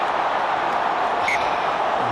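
Australian rugby supporters in the crowd at Wembley on a cold night, a broad steady roar of cheering that stays loud and unbroken throughout.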